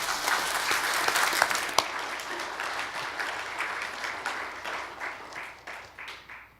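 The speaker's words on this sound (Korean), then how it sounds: "격려하는 마음으로 뜨겁게 박수 한번 합시다" A church congregation gives the Zion choir warm clapping that starts dense and steady, then thins into scattered individual claps and fades out.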